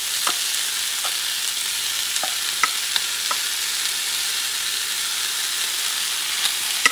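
Fried mixture tipped into a pot of rice with pork feet, giving a steady, close hiss of sizzling with scattered scraping clicks from stirring throughout.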